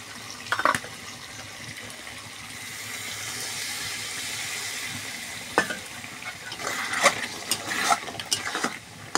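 Water poured into a pan of frying potatoes sets off a loud, steady sizzle and bubbling, with sharp clinks and scrapes of stirring scattered through it, close and without talking.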